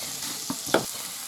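Green asparagus with pasta and chicken fries in a pan, giving a soft steady sizzle with a couple of brief stirring scrapes, one sharper clack near the end.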